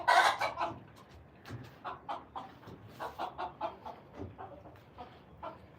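Close, rhythmic clucking from a rooster with bumblefoot, starting with a louder squawk and settling into a steady series of short clucks.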